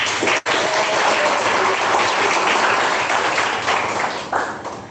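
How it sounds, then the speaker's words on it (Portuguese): Congregation applauding during a church Bible study, a loud wash of clapping that stops briefly near the start, then continues steadily with a few voices mixed in. "Olha lá, palmas"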